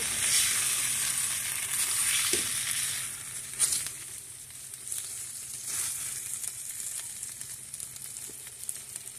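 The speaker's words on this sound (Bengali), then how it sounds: "এবার ভালো করে মশলার সঙ্গে কষিয়ে নেব" Steady, close sizzling of steamed eggs and potatoes frying with spices in a hot pan, with a few soft scrapes and clinks of stirring and no voices.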